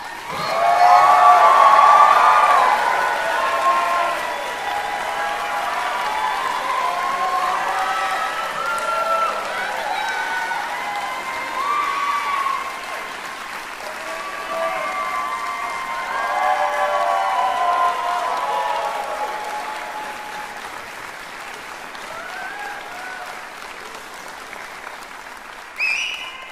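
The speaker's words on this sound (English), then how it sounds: "let's give another round of applause for" A commencement crowd breaks into sustained applause with some cheering and voices mixed in, loudest at the start, then a long, steady roar of clapping that gradually thins toward the end.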